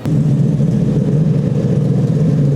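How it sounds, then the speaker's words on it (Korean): Shelby Cobra replica fitted with a Mustang 5.0 V8, its exhaust giving a deep, loud, steady burbling rumble at close range. "배기음도 엄청나고 그만큼 사람의 심장의 박동수를 울릴 수 있는 어마무시한 배기음입니다"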